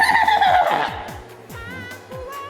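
A voice imitates a horse's neigh in a Minang comedy act: a loud, wavering whinny that fades as it goes, over a steady rhythmic backing beat with no talk.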